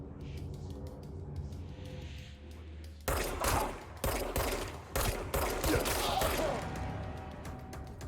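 Rapid bursts of video game gunfire in Destiny 2, a dense volley of repeated shots starting partway through and continuing loudly to the end after a quieter stretch.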